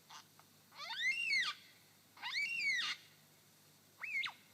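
In a Victorian forest, a lyrebird imitates a yellow-tailed black cockatoo with three drawn-out, wailing arched calls, the first two long and evenly spaced, the last shorter, heard clearly against a quiet background.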